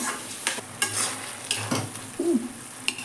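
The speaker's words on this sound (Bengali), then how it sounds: "দিয়ে ভালো করে নাড়তে হবে" Hilsa fish head and taro leaves stirred in a pan, with a soft ongoing sizzle and several scraping strokes of a spoon against the metal, close up and without talk.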